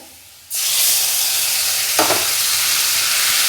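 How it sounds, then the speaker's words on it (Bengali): Spices hit onions frying in a pan for a Bengali fish curry, setting off a sudden loud, steady sizzle that fills the rest of the moment, with a brief stir partway through. "এবার দিয়ে দেবো মশলাটা"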